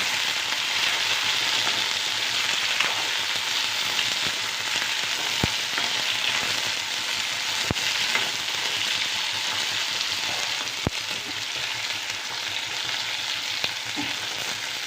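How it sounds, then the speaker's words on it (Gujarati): Steady, dense sizzling of okra frying in hot tempering oil, a continuous crackling hiss with occasional sharp clicks, no voices. "મસ્ત મજાનો વઘાર કરવાનો છે ભીંડાનો"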